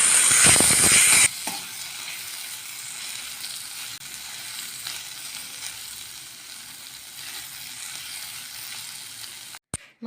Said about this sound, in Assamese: মাংসখিনি ভালদৰে ভজা হৈ গৈছে